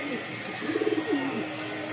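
Large pigeons of a fancy breed cooing, a pair kept for breeding; a few soft, low throaty coos sound close by against a quiet background with faint noise.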